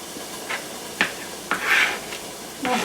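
Knife slicing through mushrooms on a cutting board for a turkey lasagna, a handful of sharp, separate cuts and taps spaced about half a second apart, close and fairly quiet with no talking.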